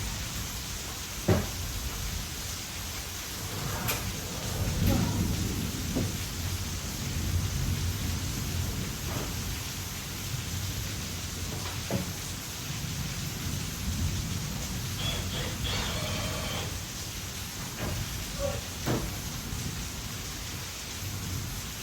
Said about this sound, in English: An insane amount of rain outside, if you guys can hear it.